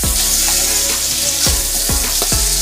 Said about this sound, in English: So we just gonna get a good nice sear